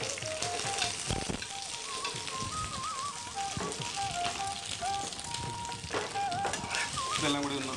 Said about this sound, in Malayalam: കറിവേപ്പിലയും കൂടെ ഇട്ടു നമ്മൾ കൊഴുക്കട്ട അതിലേക്ക് ഇട്ട് കൊടുക്കുക